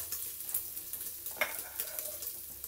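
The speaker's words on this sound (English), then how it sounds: "the idea is to get the lard on a little bit crispy, cooked and crispy" Lard frying in olive oil until crispy for boeuf bourguignon gives a steady, close hiss and sizzle with light crackles and a brief stir, and no talking.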